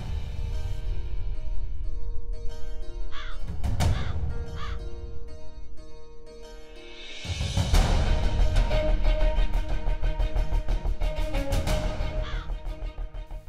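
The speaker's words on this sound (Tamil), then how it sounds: "மாமாவோட பறவை வந்துருச்சு." A bird belonging to an uncle in a Tamil TV drama arrives calling, with harsh crow-like caws repeated over a loud, swelling music score.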